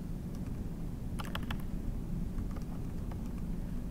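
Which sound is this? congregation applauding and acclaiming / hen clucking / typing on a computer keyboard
typing on a computer keyboard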